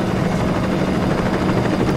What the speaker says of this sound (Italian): Io non ci voglio credere che è arrivato un altro elicottero di già.